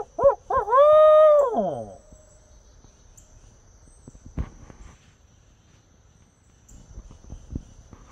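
A man imitates an owl hoot outdoors beside a creek, giving two short rising calls and then one long wavering hoot, loud and close. Crickets chirp faintly and footsteps shuffle in the quiet afterward.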